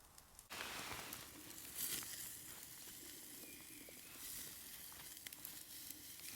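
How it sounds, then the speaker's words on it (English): Rump steak sizzling in a Bushbox XL camping stove outdoors as it is turned over, a faint steady hiss and crackle after a brief clatter at the start, with soft scattered pops throughout. "Let's turn this steak over."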